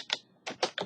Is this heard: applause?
no